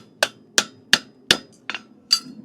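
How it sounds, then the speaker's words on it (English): A farrier's hammer taps steel six times in a steady rhythm while setting a clip on a horseshoe during shoeing, each strike a sharp, close metallic knock with a brief ring. "That way I don't hit the clip with my hammer."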